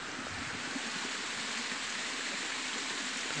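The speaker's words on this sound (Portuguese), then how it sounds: "Descendo muita água ali." Water rushes down over an overflowing dam in the Bahian backcountry, a dense, steady roar of flowing water at close range, continuous and unbroken with no talk.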